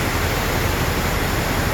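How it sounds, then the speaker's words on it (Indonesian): Heavy rain pours steadily beside a bus garage near the Sunda Strait in stormy weather, a loud, dense and unbroken hiss with no voices. "Hujan deras."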